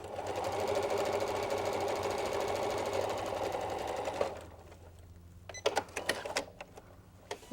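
A sewing machine runs steadily at a fast, even stitching pace while sewing a Y seam in quilting fabric, then stops abruptly midway, followed by a few scattered light clicks and handling taps.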